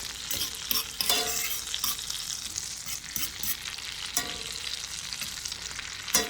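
Peppers fry in butter in a pan, giving a continuous close, bright sizzle with occasional soft scrapes and stirring clatter, no voices.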